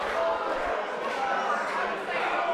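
A wrestling crowd at a HOPE Wrestling show cheers for Kyle Kingsley, a dense, steady roar of many voices filling the hall, with a commentator talking over it.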